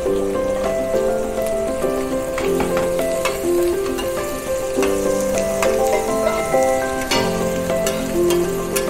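Shrimps sizzle and fry steadily in a hot pan for squid-ink shrimp, with occasional stirring, under continuous background music.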